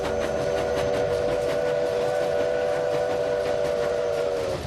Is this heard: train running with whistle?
yes